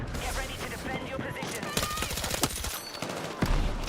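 Burst-fire weapons go off in Battlefield 6 in a dense, close firefight, with rapid bursts of shots, including a clearly pulsed volley, over a continuous battle din. A voice speaks over the gunfire.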